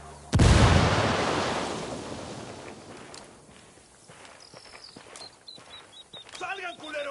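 A frag grenade detonates in a PS4 video game with a single loud, close boom near the start. It decays into a long rumbling tail, followed by light footsteps and sharp clicks.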